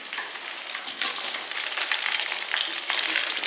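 Chicken wings fry in hot oil, giving a steady, close, dense crackling sizzle that carries on unbroken throughout with no voices.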